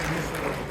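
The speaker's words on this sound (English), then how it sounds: "Give them a round of applause, please." Dense audience applause at a Council of Islamic Organizations anniversary fundraising event, a loud, continuous burst of many hands clapping.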